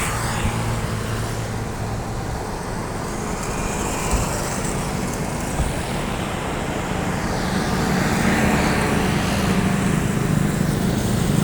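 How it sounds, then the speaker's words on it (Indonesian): Heavy road traffic with the deep rumble of a convoy of intercity buses departing toward West Sumatra, a steady drone that swells slightly toward the end, with no voices. "ini rombongan bus TAM ya yang akan berangkat menuju Sumatera Barat"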